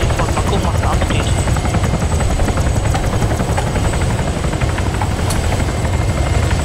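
A helicopter in the video game Arma 3 flies with a loud, steady rotor thump and engine drone that carries on without a break throughout.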